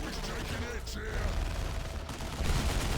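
The Ork death gun in Dawn of War 2: Retribution fires amid a busy battle, a dense clatter of rapid shots and mechanical rattling running steadily under a commentator's voice.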